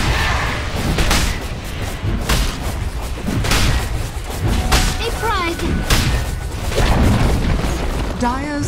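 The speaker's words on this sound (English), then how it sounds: "Dire's top tower has fallen" A tower crumbling in a Dota 2 match, with heavy booms and thuds repeating over busy game effects, loud and close, while a voice speaks through parts of it.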